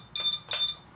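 An FPV racing drone's flight controller beeper sounds two short, shrill electronic beeps in quick succession, close and loud, with nothing else heard.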